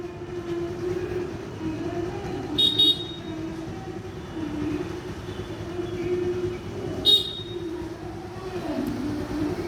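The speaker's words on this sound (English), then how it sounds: "Horn ఎందుకు కొడుతున్నారు?" Vehicle horns honking in jammed city traffic in Habsiguda, Hyderabad, a few short toots standing out over a steady engine and road rumble, moderately distant.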